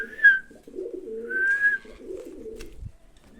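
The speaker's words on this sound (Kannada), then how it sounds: "ಸಮ್ ಬರ್ಡ್ಸ್ ಎಲ್ಲ ಇದೆ." Pigeons coo in low, rolling phrases at a hill station in Andhra Pradesh, with a brighter bird whistle rising twice above them; the calls are fairly close and continuous.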